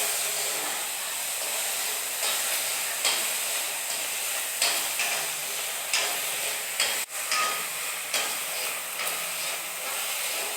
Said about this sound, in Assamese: অলপ সময় আমি এইখিনি ভাজি ল'ম।